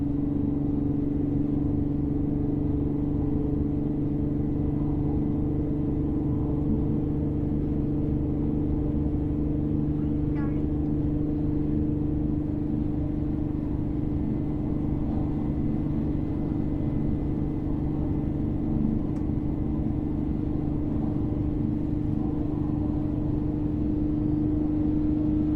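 Infiniti G37 with stock headers and a Motordyne exhaust setup, a steady low engine and exhaust hum while cruising, droneless and even throughout, with constant road rumble and no talking.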